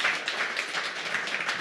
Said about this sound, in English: how about a round of applause for Justin and Michael?